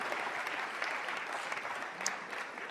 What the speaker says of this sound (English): Let's give another round of applause to Emily Goglia, Juliet Goglia, Daniel Payso